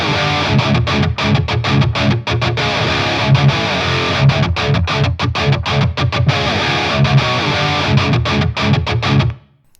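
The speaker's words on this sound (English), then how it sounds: "the amp, just to add some subtle room reverb. I like to do this always with my rhythm guitar tones." Heavily distorted metal rhythm guitar run through a Line 6 Helix with a subtle room reverb, chugging in tight, loud palm-muted bursts and staccato stops for nearly ten seconds before it cuts off abruptly.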